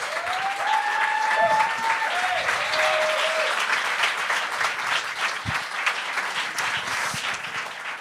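A comedy club audience applauds a performer, a sustained dense wash of clapping from a crowd that stays steady throughout, with a few whistles near the start.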